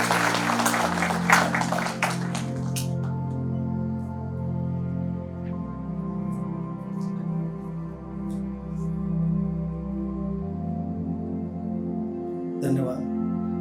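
A seated audience at a university talk-show event gives brief applause for the next speaker. The clapping is dense for the opening seconds, then fades under a low hall hum and a voice.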